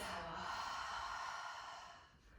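A single long, breathy exhale through an open mouth during a yoga breathing exercise, close and steady before trailing off.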